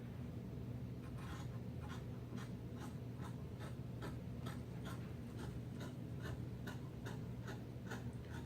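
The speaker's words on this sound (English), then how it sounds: "so now I'm going to cut around my fabric" Scissors cutting fabric laid flat on a table, a soft steady series of rhythmic snips over a low background hum, faint and close.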